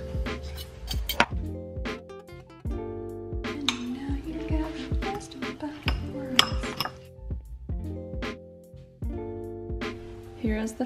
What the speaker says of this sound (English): we'll use a fork to scrape the squash into a spaghetti